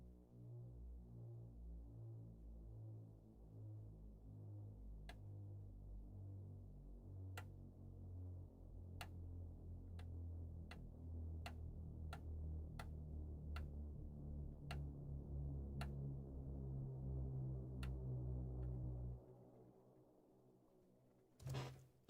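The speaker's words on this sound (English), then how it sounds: "So shepherd tone is a tone that either descends or ascends" A Shepard tone, the psychoacoustic illusion of an endlessly descending pitch, drones steadily with layered tones gliding downward, punctuated by evenly spaced sharp ticks, then fades near the end.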